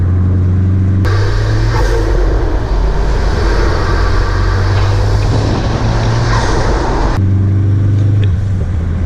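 A 2016 Ford Focus RS on twisty back roads, its engine droning loud and close with a steady low hum that swells into a rougher, revving stretch in the middle before settling back.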